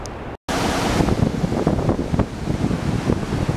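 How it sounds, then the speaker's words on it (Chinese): Nevada Fall in Yosemite roars as a broad, continuous wash of falling water, loud and close with wind rumble on the microphone, no voices, after a brief dropout at the start. "这就是纳文达瀑布"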